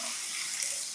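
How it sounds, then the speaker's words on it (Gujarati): Water poured from a bowl into a pan of pigeon peas, a short steady splashing pour close to the microphone with no other sound. "તો 2 વાટકી આમાં પાણી ઉમેરવાનું છે."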